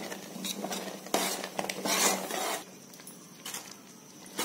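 A spoon scrapes and clatters against a pan while puliogare gojju spice mixture is stirred over low flame, in bursts of loud metallic strokes followed by quieter scraping, with no voices.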